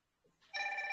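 A telephone rings with a steady electronic tone, starting abruptly and staying loud, after a brief stretch of faint background noise.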